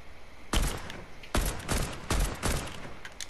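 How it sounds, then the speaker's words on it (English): Gunfire in the video game Fortnite: three loud bursts of rapid shots in quick succession, each sharp onset trailing into a brief rattling decay, close and prominent with no talking over them. "Alright, I'm shooting at them."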